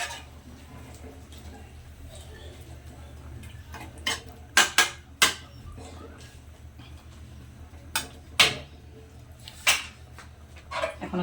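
A spoon stirring a jackfruit and prawn curry in a pot after water is added, heard as sporadic sharp metallic clinks and scrapes over a quiet room hum, close by.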